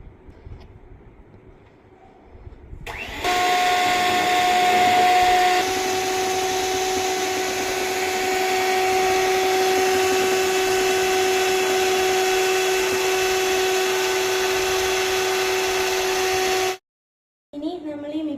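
Electric hand mixer whipping butter with Milkmaid condensed milk for bun maska. It starts at about three seconds as a steady, loud whine, shifts pitch shortly after, and runs evenly until it cuts off near the end.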